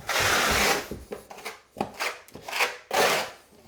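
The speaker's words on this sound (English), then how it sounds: "you want to kind of burn it in first, which is using the flat side of the trowel, and work it into the" A trowel's flat side scrapes and rubs thinset into plywood for a bathroom floor-warming install, in a series of close, gritty strokes of varying length with short pauses between them.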